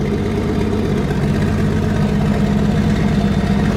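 A Nissan RB25DET engine idles with a steady, rough low rumble and an uneven, stumbling beat from a misfire, running continuously and close by with no talking.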